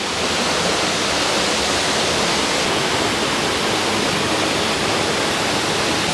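Dense, continuous roar of a waterfall in Bali, loud and unbroken, with rushing water filling the whole scene and no voices.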